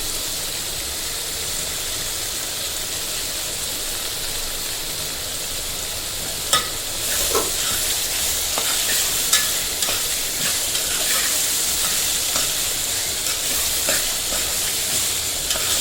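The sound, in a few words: curry leaves and tomatoes frying in pan for chicken curry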